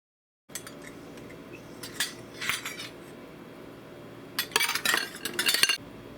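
A spoon clinks and scrapes against a bowl while baking soda and salt are stirred together, with quiet scraping at first and a louder burst of clinking taps toward the end.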